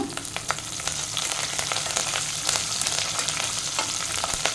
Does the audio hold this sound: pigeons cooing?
no